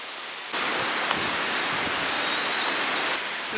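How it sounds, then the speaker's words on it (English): Steady rain hisses down in a forest in the Brecon Beacons, Wales, after a brief quieter start, a dense, even patter that fills the space with no voices. "I'm finding it hard to film because of the rain."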